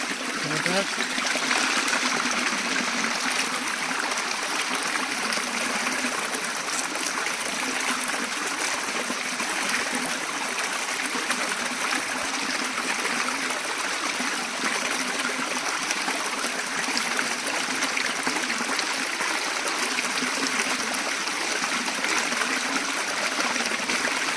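Water flows and trickles continuously in a clear stream in the countryside, a steady rushing babble throughout.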